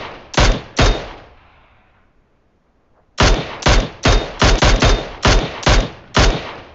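Gunfire in the mobile battle-royale game PUBG Mobile during a gas station and brick house standoff: two loud shots, a quiet pause, then a steady run of seven more sharp, closely spaced reports, with no talk.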